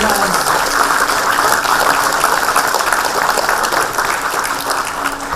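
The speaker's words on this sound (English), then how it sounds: "give a big round of applause to all these wonderful people" A large audience at an awards ceremony in Bangalore claps steadily and loudly throughout, a sustained wash of applause.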